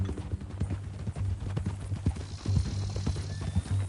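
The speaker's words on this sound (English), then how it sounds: "That new horse? Some folk buy ranches, some buy horses." A horse's hooves clop steadily at a walking pace in the Red Dead Redemption 2 video game, moderately loud and close against a low in-game background ambience.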